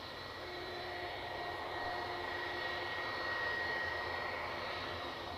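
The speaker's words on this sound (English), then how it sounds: "We've got a Loganair ATR 72 departure to Exeter." Loganair ATR 72 turboprop departing Edinburgh Airport for Exeter, a steady broad engine roar with faint tonal whine, heard from a distance and holding even throughout, no voices.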